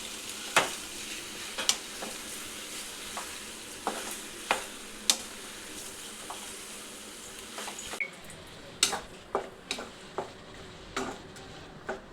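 Pasta being stirred as it fries in a pan, a steady soft sizzle broken by sharp, irregular clicks and scrapes of the utensil against the pan, close and alone.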